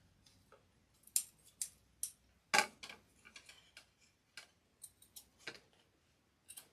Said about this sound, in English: So I'm going to try and use my curved scissors.